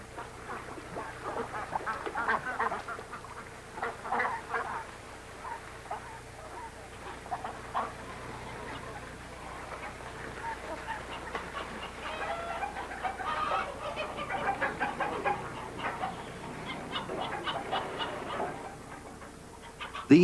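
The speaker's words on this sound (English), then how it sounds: "Chickens and turkeys, ducks and geese stray along the riverbanks." Chickens, turkeys, ducks and geese roam a riverbank, their clucking, quacking and honking scattered and overlapping at moderate distance over steady ambient noise for the whole stretch.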